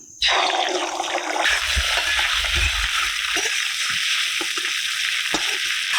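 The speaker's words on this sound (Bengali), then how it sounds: "ডিমটাকে নেড়ে চেড়ে একদম ঝুড়ো ঝুড়ো করে নেব" A sudden burst of loud sizzling as beaten egg hits hot white oil in a wok, then steady crackling frying with scraping stirring sounds underneath as it scrambles.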